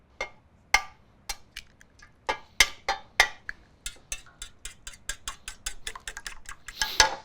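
Rapid clinking taps of a utensil against a bowl, speeding into a quick steady beat, close and fairly light, as eggs are whisked for an egg wash.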